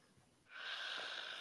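A person snores with one long, raspy, drawn-out breath that starts suddenly after a quiet moment and holds steady, faint and close.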